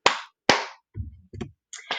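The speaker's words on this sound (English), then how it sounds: "2 claps for Le Marie." Two sharp hand claps in quick succession, loud and close, each with a crisp attack and short decay, followed by a few softer thumps and taps.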